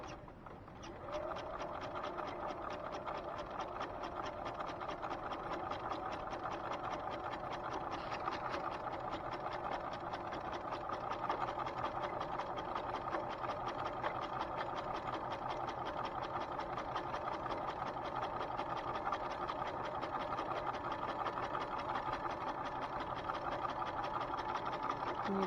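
A sewing machine stitches a folded hem, running at a steady, continuous buzz for the whole stretch with its needle rattling along, loud and close, with no voices.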